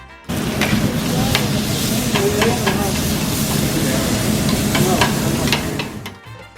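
Chilies and a fresh tortilla sizzle on a hot flat grill at a Tijuana street food stall: a steady, loud frying hiss with a few sharp crackles and pops. It runs for about six seconds, then drops away.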